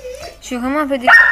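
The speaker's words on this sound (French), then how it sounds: "c'est mon chien qui aboie" A pet dog barks and yips, several close high-pitched yelps rising at the end, while someone talks over it in French.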